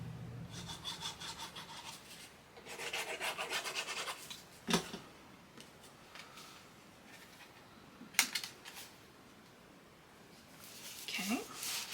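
Folded cardstock for a farmers market shaker album is burnished firmly along its score lines, giving soft rubbing and scraping strokes in short bursts with a couple of sharp taps, close up and fairly quiet.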